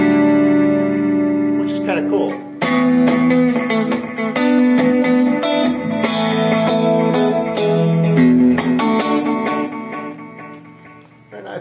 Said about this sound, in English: you ended up with a chorus effect on your echo